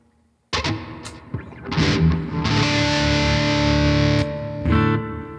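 A white Les Paul Custom electric guitar through a Fender Mustang amp: distorted chords ring out close and loud, a few sharp strums then a sustained crunchy chord that holds and fades into another hit.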